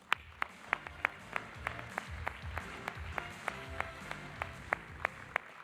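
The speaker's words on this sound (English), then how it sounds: "Give yourselves a round of applause." Scattered, quiet applause from a thin audience at a volunteer award ceremony, with a few individual claps standing out sharply over a soft bed of clapping.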